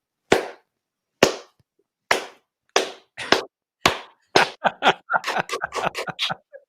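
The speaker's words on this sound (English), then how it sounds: "I'm gonna give you the 80s slow clap." A lone person's deliberate 80s-style slow clap: sharp, well-spaced single claps that gradually quicken, breaking into a faster burst of clapping near the end, close and clear against silence.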